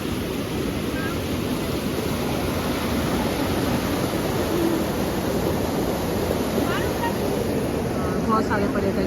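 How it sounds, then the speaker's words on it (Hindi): A small stretch of the Ganga, a branch running into the Mandakini near Harsil in Uttarakhand, flows past with a loud, unbroken rushing roar that fills the whole clip. "ये नदी है, गंगा नदी का छोटा सा हिस्सा बहती"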